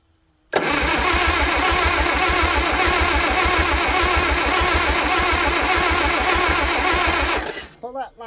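A tractor engine with a carburetor and choke cranks and catches at once, then runs loud and steady with a fast even chugging beat for about seven seconds before cutting out abruptly.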